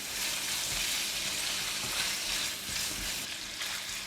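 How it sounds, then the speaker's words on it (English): Minced pork with soy sauce, pepper and sesame oil frying in a pan for a glass noodle stir-fry, a steady dense sizzle with soft scraping stirs, moderately quiet and continuous. "Cook it for about 2 minutes until minced pork is cooked."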